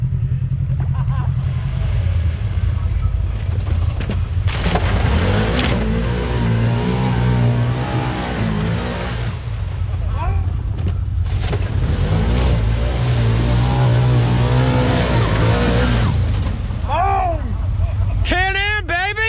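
A Can-Am side-by-side UTV engine drones and revs continuously on a snowy winter trail, loud and close, with voices talking and shouting over it throughout.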